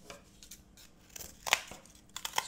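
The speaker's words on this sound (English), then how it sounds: "Just trim it roughly to fit." Scissors roughly trimming cardboard pieces for a paper-craft layout, several short crisp snips and crinkles at close range with no talking.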